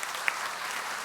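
A church congregation applauds its assistant priest in a short burst of dense, steady clapping filling the hall.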